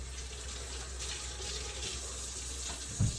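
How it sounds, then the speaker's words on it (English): Water runs steadily from a kitchen tap as a hand is rinsed, a soft continuous splashing stream with a small knock near the end. "let me rinse my hand"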